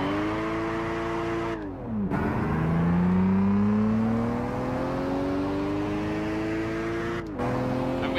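A car engine in the Gran Turismo 5 racing game, driven with a manual gearbox, revs hard and steadily, its pitch dropping sharply at two gear shifts and climbing again, with no voices.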